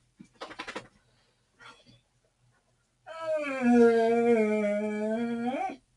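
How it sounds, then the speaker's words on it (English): A dog lets out a long, steady howl lasting a few seconds, preceded by a couple of short yelps or whines. "that's my dog and not my stomach."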